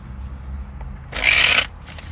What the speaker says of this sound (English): normally I like to see the cards while I'm shuffling